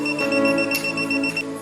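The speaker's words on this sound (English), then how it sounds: "When a nearby voltage is sensed, a beep will sound." An ANENG M117 multimeter sounding its non-contact voltage detection alert: a steady, close electronic beep tone with a bright whistling pitch, repeating in quick pulses over a low hum, with no talking.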